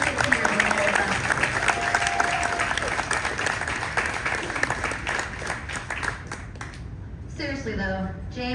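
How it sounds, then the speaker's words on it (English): A big round of applause at a retirement party: dense, steady clapping from a gathered crowd fills the room, continuing for several seconds before voices and laughter cut in at the end. "please give James another big round of applause"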